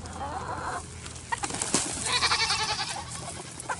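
Chickens and goats on a farm, heard at morning feeding time when dinner leftovers are thrown out: scattered clucks and bleating calls close by over steady outdoor noise, with no clear talk.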